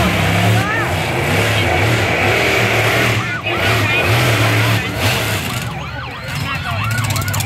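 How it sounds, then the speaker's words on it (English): A wailing monster truck siren sweeps up and down over loud engine noise and road rumble, close by, at a county fair monster truck show. "Got sirens on, I didn't even hear them."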